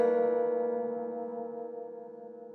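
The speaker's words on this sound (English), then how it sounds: "These things here are what I call piano cluster boards." A dense piano cluster chord, played with a cluster board, struck once, ringing with many stacked tones and slowly decaying, alone with no talk.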